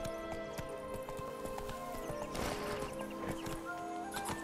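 Roach the horse's hooves clop in a quick, steady rhythm through The Witcher 3, with a neigh or two over tonal in-game music and effects, close and fairly loud.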